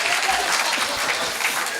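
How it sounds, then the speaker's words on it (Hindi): An audience at a Hindi comedy poetry gathering (hasya kavi sammelan) claps, a loud, dense and steady burst of applause that fills the room. "ताली बजाओ भाभी जी के लिए।"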